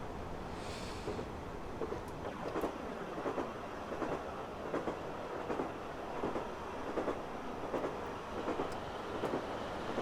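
A BR Class 153 diesel railcar runs along the Wherry Lines, its wheels beating out a steady, repeating clickety-clack over rail joints beneath a continuous low rumble, heard from on board with no talking.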